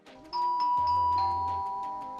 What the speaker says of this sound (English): the sound of his doorbell, which utilises the opening notes of Beethoven's Fifth Symphony